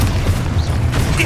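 A deep, rumbling Confringo spell explosion booms in Hogwarts Legacy, a short sustained low blast with faint mechanical clatter on top.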